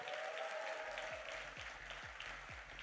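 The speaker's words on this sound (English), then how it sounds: "Let's get a round of applause." A crowd applauds at the Sobha City Abu Dhabi event, steady clapping filling the room while a thumping music beat kicks in underneath partway through.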